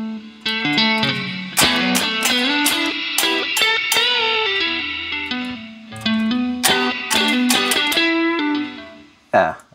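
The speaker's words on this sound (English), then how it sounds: "Yeah, I think I liked a little bit of that spring reverb in there." An electric guitar played through an amp with spring reverb rings out in picked notes and chords, each attack trailing into a shimmering reverb tail, loud and up close.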